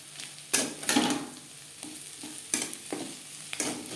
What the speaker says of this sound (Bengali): আলু ভাজার সাথে লবণ ও কাঁচা লঙ্কা বেশ ভালো করে মিক্স করে দেবো